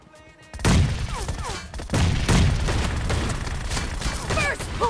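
Rapid bursts of shotgun fire and mechanical clicks in the mobile game PUBG Mobile during a team match, loud and dense, with several blasts overlapping and no speech.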